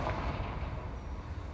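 A Confringo fire-spell explosion in a video game, heard as a dense, loud, rumbling blast that fills the whole clip with sustained low crackle and roar.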